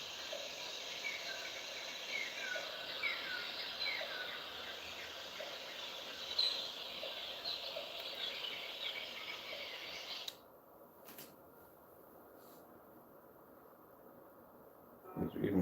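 Dense birdsong chirps and trills from a projected nature video fill the room steadily for about ten seconds, then cut out abruptly, leaving quiet room tone and a brief rustle at the end.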